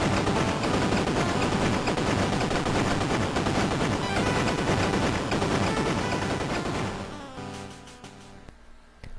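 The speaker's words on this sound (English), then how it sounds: "Kinda went overboard with the shaking and the explosions there" Loud, dense bursts of game explosions from the Mega Man V intro fill most of the stretch with rapid crackling blasts, then thin out and fade near the end.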